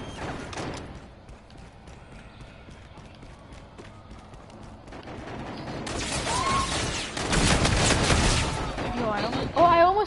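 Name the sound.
gunfire from a gun in the video game Call of Duty: Infinite Warfare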